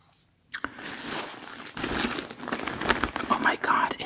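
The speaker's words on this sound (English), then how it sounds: "I didn't even know it would be crinkly. It's crinkly." Crinkly packaging is handled close up, a sudden start after near silence giving way to continuous crackling and rustling that grows busier and louder toward the end.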